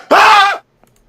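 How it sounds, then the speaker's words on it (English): A single short, loud, strained vocal scream or groan from a person, lasting about half a second, then near silence. "you're going to hear somebody scream"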